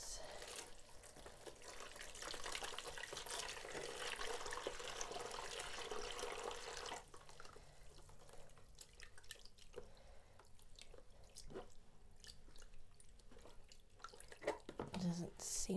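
Dyed yarn being rinsed under a running tap, with steady water flow and splashing throughout, heavier at first and then lighter with intermittent drips and trickles.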